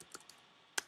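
A few keystrokes on a computer keyboard while a web address is typed, scattered light clicks with a quick double tap near the end, close and quiet.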